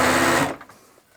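An industrial sewing machine stitches a 6XL baseball jersey, running as a loud steady whir for about half a second before cutting off, leaving faint handling noise.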